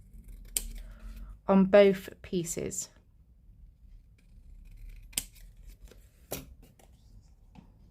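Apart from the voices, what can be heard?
scissors trimming the edges of paper pieces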